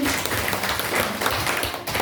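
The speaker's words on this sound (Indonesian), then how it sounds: "Mohon tepuk tangan untuk semua Bapak Ibu." Audience of teachers applauds together at the close of a school session, a dense steady clapping throughout with faint voices underneath.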